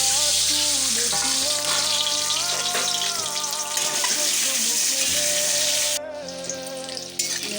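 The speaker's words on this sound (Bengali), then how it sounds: "ডিমগুলো আমার ভাজা হয়ে গেছে" Turmeric-coated eggs fry in hot oil in a pan for a dhaba-style egg curry, giving a loud, steady, close-up sizzle that continues for the whole clip and shifts in tone near the end.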